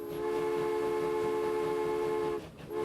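A train runs in the Transport Fever video game as a steady, loud, tonal hum with whistle-like harmonics that holds for nearly three seconds, then briefly dips and resumes.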